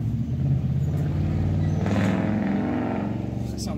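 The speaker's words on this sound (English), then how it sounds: "definitely nice sounding exhaust" A 2019 Ford F-150 with a 5.0 Coyote V8 on stock exhaust revs up and holds a deep, loud rumble close by, swelling midway through before easing off.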